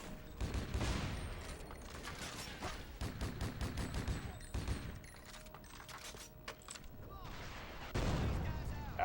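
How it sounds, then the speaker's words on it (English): Gunfire and a grenade blast in the video game Project: Snowblind: rapid bursts of shots and booming explosions, loud and dense, with voices talking over the combat. "That's a grenade."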